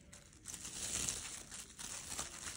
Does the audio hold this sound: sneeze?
no